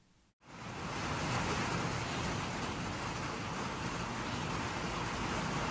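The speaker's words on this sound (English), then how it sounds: "You can sit out here and just enjoy a nice summer rain." Summer rain falls steadily on and around a covered patio, a dense even hiss that starts abruptly and holds at a constant level throughout, with no voices.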